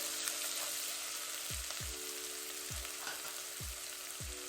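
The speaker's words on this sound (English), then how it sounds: "I'm going to go in with some onion" Onion fries in olive oil in a pot for jollof rice, a quiet even sizzle with a few soft thumps of stirring spaced through it.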